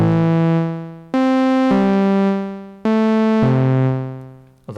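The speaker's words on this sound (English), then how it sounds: "So I've slowed down the sequence to quarter notes on my OP1." A slow quarter-note sequence on an OP-1 synthesizer with no effects, four sustained bright harmonic tones, each starting abruptly and fading steadily until the next note, played alone.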